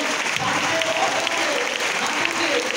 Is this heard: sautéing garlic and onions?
no